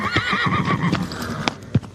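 A horse whinnies in a loud, quavering neigh close by, followed by a few sharp hoof clops.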